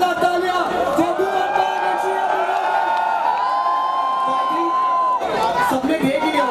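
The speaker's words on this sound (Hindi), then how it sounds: "एक बार जोरदार तालियां फॉर द" A large crowd at a college annual festival cheers and whoops loudly for the actors, with shrill sustained screams and shouts. The noise rises again after a brief dip near the end.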